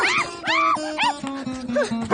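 A dog gives a quick run of high, whining yips and short barks in a Hindi action film scene, loud and close, with dialogue and background score beneath.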